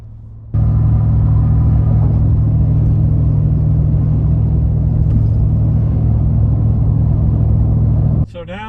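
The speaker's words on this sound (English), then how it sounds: "bumped it up to 70 miles an hour, and actually now it's riding a 10th gear" Ford Super Duty truck with the 7.3 Godzilla engine towing at highway speed, a loud steady interior rumble of engine and road noise that starts abruptly and cuts off near the end, with someone talking.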